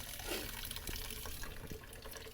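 Water runs from a kitchen tap in a home while lunch is being made, a steady close rushing stream that continues without a break and with no one talking.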